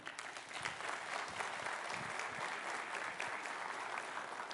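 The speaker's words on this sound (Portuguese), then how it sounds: "Aplauda ao Senhor." A church congregation applauds during a sermon, with a steady wash of many hands clapping at a distance, fairly faint and unbroken.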